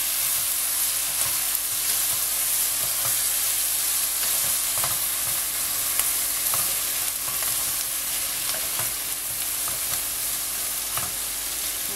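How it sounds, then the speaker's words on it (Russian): A spoon steadily stirs cabbage being braised with sour cream and tomato paste while the pan sizzles continuously, with soft scraping and bubbling close by and no talking. "Перемешиваем."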